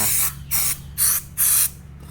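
A cleaning spray can hissing out bursts of degreaser, with three or four loud, close sprays, each lasting about a quarter second and separated by short pauses, with no talk over them.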